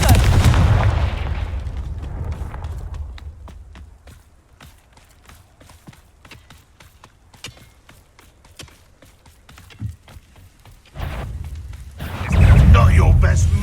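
A Confringo blasting spell in Hogwarts Legacy sets off a loud booming explosion, then quiet footsteps and small clicks before a second heavy blast rumbles in close.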